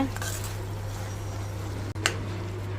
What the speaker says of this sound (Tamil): மல்லியலை தூவிட்டு நல்லா மிக்ஸ் பண்ணிடுங்க